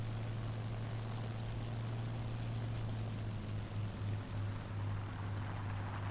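Engine of an Re.2005 fighter plane in a dive in War Thunder, throttled back, is a steady, moderately faint low propeller drone with a slight wavering pulse, with no talk.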